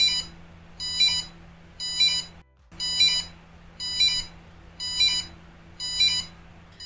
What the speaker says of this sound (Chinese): 先来看看这个电子闹钟完成后的效果